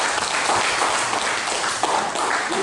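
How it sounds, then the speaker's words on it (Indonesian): Applause from a classroom group of students, a dense burst of clapping that holds steady and fairly loud for a few seconds. "Kasih dulu aplaus buat kelompok 3."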